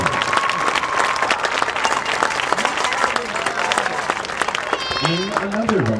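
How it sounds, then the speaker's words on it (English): Sustained applause from a large crowd at a high school varsity football game homecoming, dense clapping with a voice briefly audible over it near the end. "Let's give a big round of applause to the entire 2025 Homecoming Chorus."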